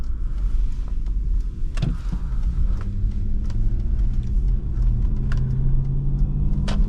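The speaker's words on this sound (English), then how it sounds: "You can hear the engine just a little bit, but overall it's a very quiet cabin" A 2007 Lexus LX470 is driven with the engine as a low, steady rumble inside a quiet cabin, with faint road noise and a few small clicks and no talking.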